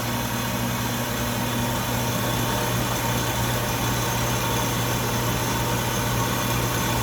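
An Atlas 10-D lathe turns 3/4-inch 1018 steel at 2200 RPM, a steady, loud, continuous machine hum and whine with no break throughout.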